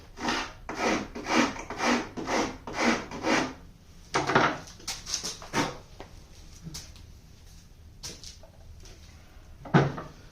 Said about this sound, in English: Rasp is probably not the best tool. It will remove material quickly.